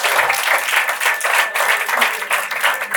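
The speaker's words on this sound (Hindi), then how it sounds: "दोस्तों जोरदार तालियों के साथ।" Loud, dense applause from the crowd at a poetry gathering honouring a shayar, continuous clapping with slight swells and no voices over it.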